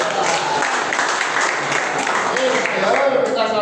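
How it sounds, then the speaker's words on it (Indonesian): An audience applauds Pak Yaul at a gathering, a dense, steady clapping that fills the room at even loudness from start to finish. "Jadi kita tepuk tangan sama Pak Yaul."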